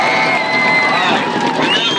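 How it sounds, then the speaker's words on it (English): Crowd cheering and applauding in a monster truck wheelie competition arena, a dense, steady roar of voices and clapping throughout with whistling tones and an announcer faintly under it. "Let's give him a big round of applause."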